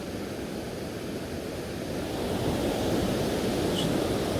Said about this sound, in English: It like gushes down either side at weir.